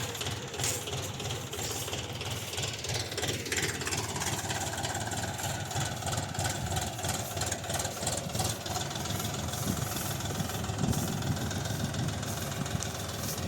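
A DTZ 354U tractor engine runs steadily while pulling a harrow over a field in third gear on the second range, a continuous loud mid-low drone with a rough knocking texture and a shift in pitch early on.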